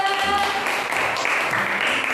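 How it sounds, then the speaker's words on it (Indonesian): A short burst of clapping from a group of students in a classroom, mixed with voices and a brief tonal sound at the start. "Tepuk tangan untuk kelompok 2."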